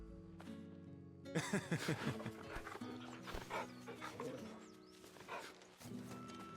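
A barracks dog in the Final Fantasy XVI game makes panting, snuffling sounds mixed with hoof-like clip-clop footsteps, set against a steady game music bed throughout.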